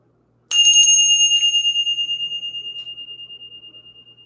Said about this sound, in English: So now we're going to go ahead and ring the bell